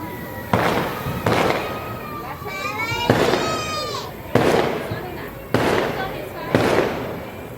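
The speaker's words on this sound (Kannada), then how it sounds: "ಎಲ್ಲ ಕಡೆ ಪಟಾಕಿ ಸೌಂಡ್ ಅಂತೂ ಜೋರಾಗಿ ಇತ್ತು" Diwali firecrackers burst loudly several times in irregular succession around a village near Bengaluru, echoing, with whistling rockets and distant voices in between.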